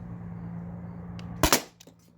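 An HDP50 Gen 2 launcher fires a single sharp, close shot with a quick double crack, rising over a low steady hum that fades right after.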